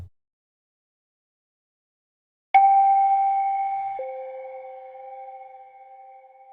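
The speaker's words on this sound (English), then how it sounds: "almost like a music box lullaby kind of intro to the song" Eerie music-box-like lullaby intro with added effects: clean sustained bell-like tones enter abruptly after a silent start, holding steady, then stepping down to a lower note and slowly fading.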